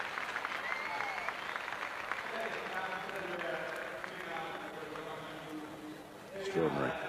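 A crowd at a 1988 freestyle skateboarding contest applauds and cheers in a sustained, dense wash of clapping that fades slightly over several seconds, with voices mixed in.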